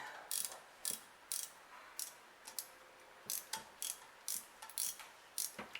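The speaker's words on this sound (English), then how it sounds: "So this gear wrench thing is nice, and this kind of made for something like this." A ratcheting gear wrench tightens exhaust manifold bolts on an old GM engine, giving a close series of crisp, rapid clicking bursts at a steady back-and-forth pace with short gaps, and no talking.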